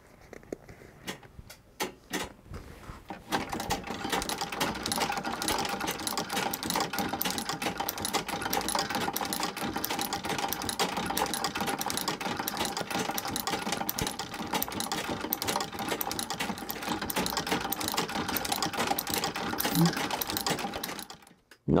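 A German-made sewing machine stitches thread, then reverses to backstitch: a few separate ticks first, then a steady, fast mechanical whir that runs close and loud for most of the span before stopping abruptly at the end.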